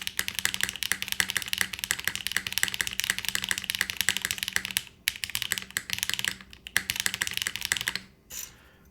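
Fast, continuous typing clacks on a DR-70F mechanical keyboard built with GMK keycaps and foam, crisp and close, with brief pauses near the end.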